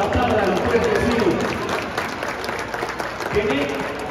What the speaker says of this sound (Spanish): Muy bien, aplaudan, aplaudan